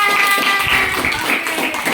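Students in a classroom clap for a group after its presentation, a dense, continuous patter of many hands that holds fairly loud through the brief stretch.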